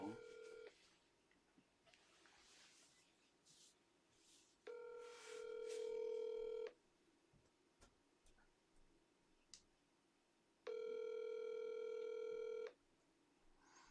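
Phone ringing over speakerphone, a quiet electronic tone that rings in long evenly spaced pulses, with background noise and a few clicks between the rings.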